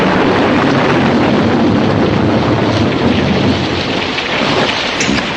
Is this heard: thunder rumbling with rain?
yes